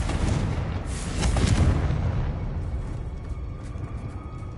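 Confringo blasting curse in the Hogwarts Legacy video game goes off as a loud, rumbling explosion with a booming burst that swells and then fades into a lingering low roar.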